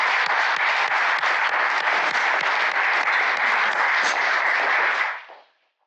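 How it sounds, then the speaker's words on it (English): Applause from an audience at an entrepreneurs forum event, a dense, steady wash of many hands clapping that holds level for about five seconds and then dies away quickly. "Let's hear a round of applause for these guys showing up today"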